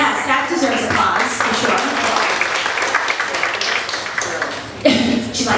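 Audience applauding a woman's induction into the Massachusetts Broadcasters Hall of Fame, a steady wash of clapping throughout with a slight swell near the end and voices mixed in.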